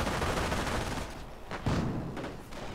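Light machine gun squad firing in a wartime strategy game, a dense, continuous rattle of automatic gunfire with battle noise, then a few sharper separate bursts toward the end, loud and close, no voices.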